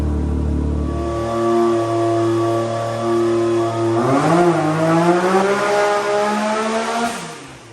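Big turbo Can-Am X3 side-by-side engine on a dyno at 35+ psi of boost, loud and close, its pitch climbing steadily through a long rev, then dipping and rising again with turbo whoosh.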